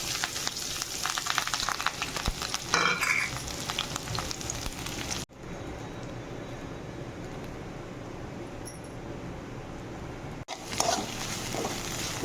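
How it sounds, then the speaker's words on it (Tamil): Ingredients such as beans and carrots sizzle and fry in a pan for Tamil-style egg rice, a steady soft crackle with faint stirring scrapes, interrupted briefly by a quieter stretch before the sizzle returns. "நன்றாக வதக்கவும்."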